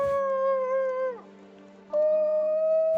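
A wolf's howl from the NOPE Mode video game, loud and near, slides down and fades for a moment before a second long steady howl rises back in over a low background hum.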